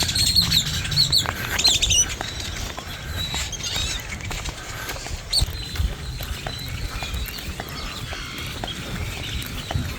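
Jungle birds chirp and call from several directions at sunrise in Corcovado National Park, Costa Rica, over a steady background hum, bright overlapping tweets scattered across the scene.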